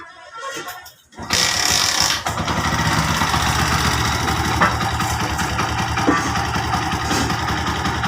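A Hero Honda Splendor motorcycle engine, freshly refitted, fires up after a short crank and settles into a steady, close idle that runs on evenly to the end.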